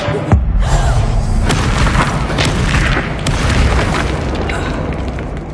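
A Bombarda spell explodes in a Harry Potter video game, a loud booming blast with a rumbling, crackling tail that fills the scene and fades slowly.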